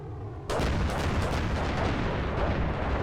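Dense, continuous barrage of bomb blasts and gunfire from the Armored Brigade 2 war game, a low booming roar that swells sharply after a quiet half-second and rumbles on loudly without pause.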